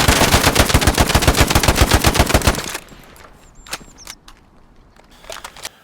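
Automatic rifle fire from an STG-44 and a Bren light machine gun in the WWII shooter Hell Let Loose: a loud, rapid sustained burst of about two and a half seconds, then scattered single shots and clicks in the distance.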